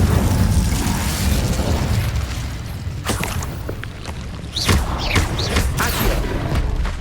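Fire spell bursts in Hogwarts Legacy, cast amid rapid combat. Loud booms, crackling pops and sharp whooshing hits pile over a dense, rumbling battle bed.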